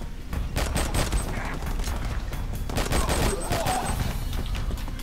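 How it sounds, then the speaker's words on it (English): Sustained rapid minigun fire in the R.I.P.D. video game, a dense continuous roar of gunfire filling the whole stretch with no break, loud and close. "this minigun never runs out of ammo"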